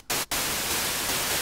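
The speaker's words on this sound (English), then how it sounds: "so white noise" A burst of steady, hissing white noise from a miniKORG 700FS synthesizer starts abruptly, cuts out once briefly, then continues evenly and loud to the end.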